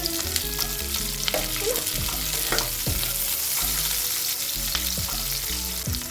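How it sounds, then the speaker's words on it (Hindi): Onions and other vegetables fry in hot oil in a wok, giving a steady, close sizzle with occasional stirring clatter throughout, no voices. "अपनी सारी वेजिटेबल्स हम एक एक करके फ्राई करेंगे। सबसे पहले मैं इसमें अनियन डालूंगी।"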